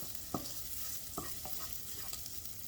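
Bacon frying in a pan, a low steady sizzle broken by a few sharp spits and pops, quiet and alone.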